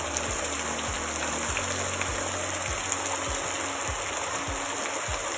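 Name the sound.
heavy rain falling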